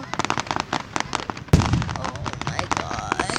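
A Lancaster fireworks show crackles in quick rattling bursts, then a strong boom lands mid-way and sizzling crackle trails after it, with spectators' voices in the background.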